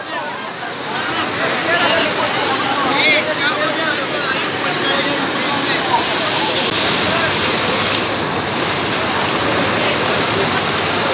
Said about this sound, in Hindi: ये पानी यहाँ से निकल रहा है, वो ऊपर से आ रहा है